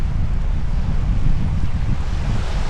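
Strong wind roars across the Mono Lake beach, buffeting the microphone with a constant low rumble and hiss, likely mixed with surf, loud and continuous with no voices.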